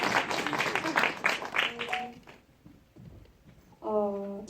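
Film screening audience at a guest talk for The Ripple claps in a moderate burst under and around talking, then the applause fades as a voice continues.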